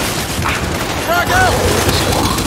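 Gunfire in the video game Gears 5, loud rapid bursts that run throughout, mixed with a few ringing electronic tones partway through.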